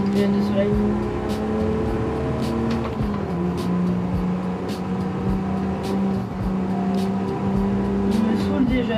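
A large car driving fast in the Forza video game gives off a constant engine drone with shifting pitch. Someone talks in French over it the whole time.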